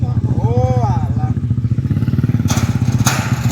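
A stock motorcycle engine labors up a hill in a steady, loud, close throbbing putter with rapid pulsing, while voices talk over it.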